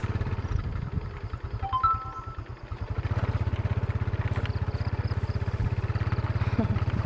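A motorcycle engine runs close by while the bike is loaded up to carry heavy goods, settling into a steady low, throbbing idle after an uneven start.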